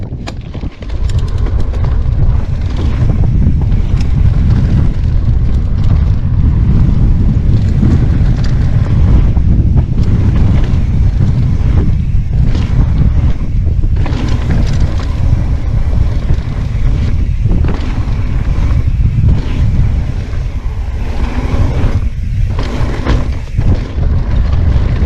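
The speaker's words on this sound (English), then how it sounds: "A little bit windy today." Loud, constant wind buffeting the microphone during a cross-country mountain bike ride, a rough low rumble that roars on without a break and no voices.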